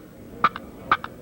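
A push-button turkey box call gives two quick hen clucks, each a sharp bright pop followed by a softer second note, close and clear with no talking.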